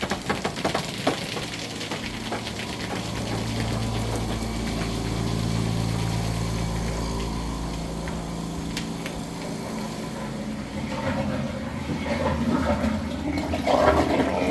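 Water gushes steadily through underfloor heating pipes during a boiler pipe cleaning in a Gangseo-gu apartment, a loud continuous rushing roar with a machine-like drone beneath, swelling and easing slightly over its length.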